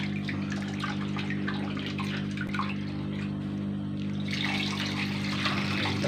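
Tamarind water for rasam is poured in a steady, splashing stream, with gushing water sounds that carry on unbroken and grow slightly brighter toward the end.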